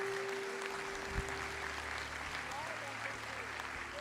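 Church congregation clapping at a steady, dense level for the whole stretch, with a voice rising briefly over the applause.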